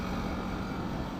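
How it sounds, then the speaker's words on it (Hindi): Steady, dense rumble of trucks running on a highway at night, a continuous broadband roar with no distinct passes or breaks. "इतने सारे ट्रक्स चल रहे हैं।"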